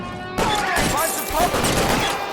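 Gunfire in the video game LA Noire erupts after a brief quiet moment, a continuous loud fusillade with overlapping shots and battle noise, mixed with voices.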